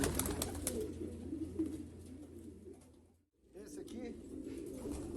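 Breeding pigeons in a loft coo in low repeated throaty phrases, with someone talking over them, broken by a brief near-silent gap before the cooing and chatter resume.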